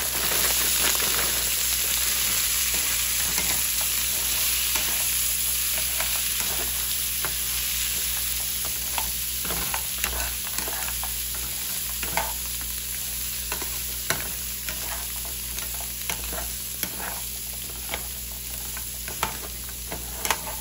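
Green beans for a Southern-style dish frying in a pan, heard as a loud, continuous crackling sizzle broken by scattered scraping and clicking strokes as they are stirred, close and without talk.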